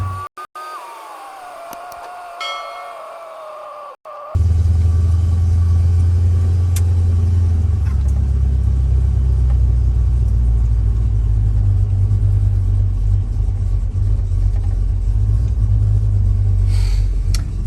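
A square body Chevy truck fitted with Fitech EFI cruises on the road at highway speed. Its engine and road noise hold as a steady, loud, continuous low rumble after a brief quieter start.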